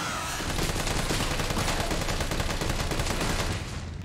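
Sustained automatic assault rifle fire in Resident Evil 3 Remake, a dense unbroken stream of rapid shots lasting several seconds, loud and close, tapering off briefly at the end.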